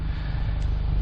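A modified VW Golf MK6 GTI with an aftermarket intake, downpipe and exhaust drives along, its engine giving a steady, low, rumbling drone heard from inside the car.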